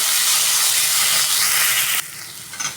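Onions and two large tomatoes roasting in a pan over a high gas flame give a loud, steady hiss that carries without a break and then drops sharply to a quieter sizzle near the end, with no talking.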